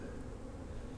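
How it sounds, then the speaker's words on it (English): Bees buzz steadily and close around beehives on a calm day after an arctic cold snap, a dense low hum with no voices. "Oh, there's bees landed on the camera"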